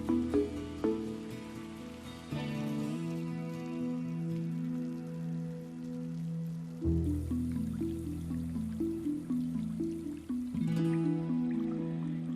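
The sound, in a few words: indoor water fountain at Hamad International Airport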